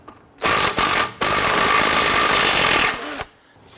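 An 18mm socket on a power tool spins loose the outer tie rod nut on a 2011-2017 Nissan Quest, a loud, close whirring burst broken by two brief pauses before one long continuous run that cuts off abruptly.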